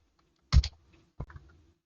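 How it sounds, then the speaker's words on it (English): A few keyboard keystrokes on a computer, one clear clack followed by a fainter pair of taps about a second later, close and isolated in a quiet room. "So I'm just going to type 0 in that box."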